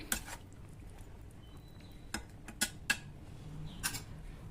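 A utensil stirs anchovy fish curry in a cooking pot, giving several sharp metallic clicks and taps at an irregular pace over a quiet background.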